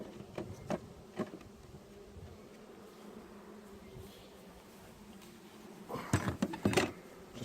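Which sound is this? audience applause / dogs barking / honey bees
honey bees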